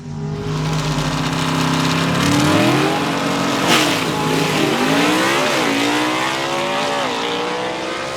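A 1958 Delray drag racing car at Carolina Dragway in Aiken roars loudly as it accelerates off the line, its engine note climbing and shifting continuously for several seconds.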